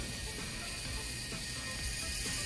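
A steady mechanical whir and ticking of small servo motors as a little Arduino robot drives forward, constant and close, with no voices.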